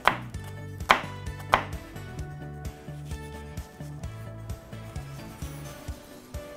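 A kitchen knife finely chopping onion on a board, with sharp, close knocks in a steady rhythm that start strong and settle into quicker, lighter strokes, with no talking.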